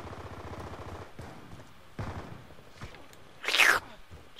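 Gunfire in the video game Black Ops 2, mostly low and distant beneath a background hum, with one sharper, louder burst near the end.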